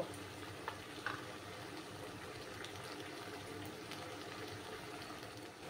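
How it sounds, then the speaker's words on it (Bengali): Ginger sizzles steadily in a pan of hot oil for a mutton masala curry, a continuous close frying crackle with a couple of brief scrapes near the start and no talking. "আদার কাঁচা গন্ধটা না যাওয়া অবধি আমি একটু ভালো করে কষিয়ে নেব"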